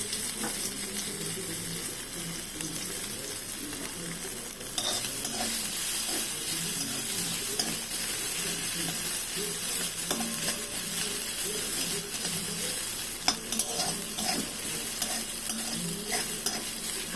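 Onions and ginger fry in a pan with a continuous close sizzle and hiss, accompanied throughout by the soft repeated scrape of a utensil stirring, with no talking.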